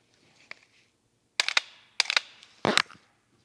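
Dry-fire trigger pulls on a gun fitted with a Mantis laser training system, giving three sharp mechanical snaps spaced about half a second apart, close and clear over near silence.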